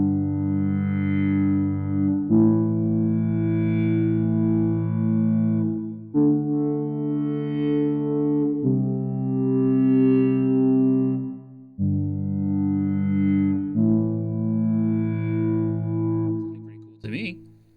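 Synthesizer tones designed with the Alphatron plugin in Reaper play as a series of sustained, buzzing chord-like notes. Each note swells and holds for a few seconds, with a short electronic blip at the end.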